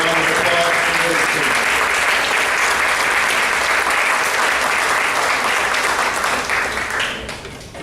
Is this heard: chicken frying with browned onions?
no